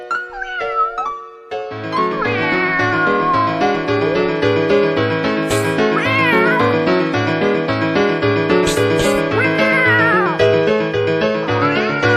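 Several drawn-out cat meows rise and fall over a rhythmic musical backing; the meows may be sung or imitated by a voice rather than a real cat.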